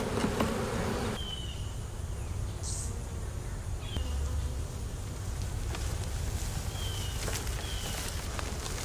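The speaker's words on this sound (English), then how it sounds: "All right, we got our box of bees." Honeybees buzz steadily inside a hive box during hive combining for a winter setup, a dense continuous hum close by with a few louder individual bees passing near, no talking.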